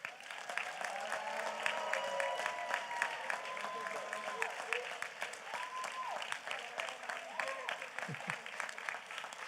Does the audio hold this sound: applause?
yes